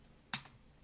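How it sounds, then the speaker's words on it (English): Single key press on a computer keyboard while changing a layer in Black Ops 3 mod tools, a sharp click followed by a fainter second tap, close and quiet in an otherwise still room. "you want to change your layer by hitting 1 on the keyboard"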